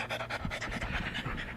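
Dog Zara pants steadily and rapidly, close up, a rhythmic run of quick breaths with no talking over it.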